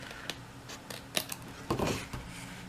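Scissors trimming the edge of a paper card panel: several short, close snips and crisp cutting crunches in quick succession in a quiet room.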